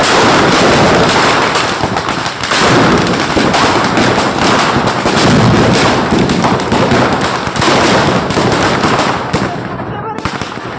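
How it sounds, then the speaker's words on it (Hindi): Firecrackers burst repeatedly at a Ravan Dahan celebration in a park, loud sharp cracks and pops in quick irregular succession over a crowd's noisy background, tapering off near the end. "और फिर बच्चों ने अपने-अपने पटाखे यहाँ पे जलाए थे।"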